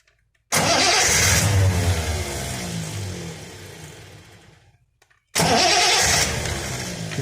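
A Triumph TR6 engine cranks over during a roadside spark plug test, the plug grounded against the engine: one long loud churning crank of about five seconds, a brief pause, then a second crank begins.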